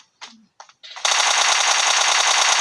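Rapid automatic gunfire in PUBG Mobile erupts after a few brief bursts of sound, then rattles on continuously and loudly at close range until the end.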